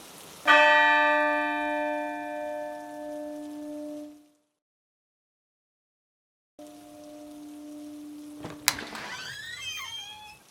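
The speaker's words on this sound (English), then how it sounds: "Here's the rope to the other bell." A motel bell rung by pulling its rope sounds one loud, sustained, resonant toll that rings out for several seconds before fading. After a gap a second, similar toll follows and is cut by a sharp clang and squealing tones.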